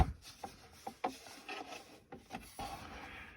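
Wooden folding step stool being folded up: a string of close, sharp wooden knocks and scraping rubs, several irregular clacks over a few seconds, quiet and with no voices.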